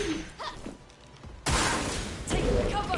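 In the video game Clair Obscur: Expedition 33, the Sakapatate boss slams his shield, a sudden heavy crash-like impact that bursts in loud mid-clip and holds, followed by another hit, over quieter game sounds and some speech.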